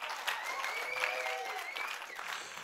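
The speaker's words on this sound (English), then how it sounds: "give him a round of applause for Jesus" A congregation applauds during a religious testimony gathering, with a steady wash of clapping and a few voices calling out over it, fairly faint and distant.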